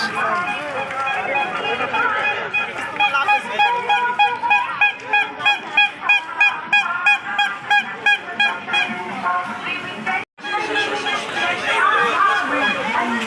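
Birds sold at the Ekteswar Gajan fair by a riverside in Bankura, a rapid string of loud, rhythmic, goose-like honking calls repeating close by, with people's voices and crowd chatter mixed in and a brief gap near the end.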